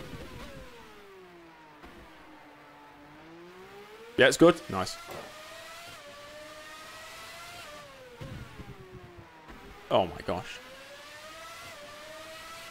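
Formula One race car engine from the CustomF1 1995 season game, its whine rising and falling through gear changes, loud throughout, with someone talking over it in short bursts.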